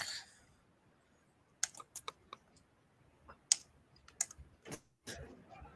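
A computer mouse clicks several times at irregular intervals, sharp, quiet, isolated ticks with near silence between them and no talking.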